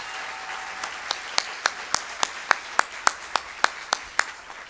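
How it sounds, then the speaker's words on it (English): Applause for school principals at an education excellence gala, with a soft crowd wash and a string of distinct, evenly spaced loud claps standing out over it. "Give them a big round of applause"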